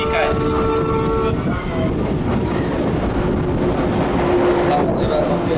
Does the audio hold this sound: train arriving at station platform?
yes